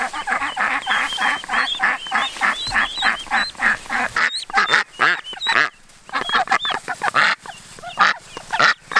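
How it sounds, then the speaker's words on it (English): Loud, rapid honking quacks from several waterfowl, close by and overlapping in a raucous, continuous chorus. "The mama ducks are so aggressive"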